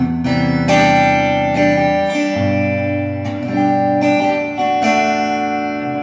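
A homemade electric guitar in the middle pickup position, both pickups on, played through only a reverb pedal: loud strummed chords ring out with a spacious reverb tail, roughly one new strum per second, with no voices.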